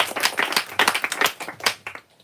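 Audience at a live bookstore reading at Brookline Booksmith gives a scattered round of applause, a few seconds of loose, fairly close clapping that quickly fades away.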